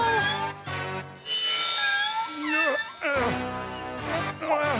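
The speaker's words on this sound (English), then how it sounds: "Sweetie, that's a cat." A cartoon cat meows in drawn-out, wavering cries, some rising and falling in pitch, repeated several times close up amid animated soundtrack.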